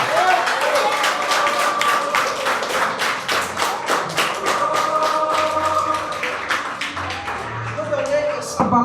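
Steady applause from a church congregation, dense clapping sustained throughout with a low musical hum underneath.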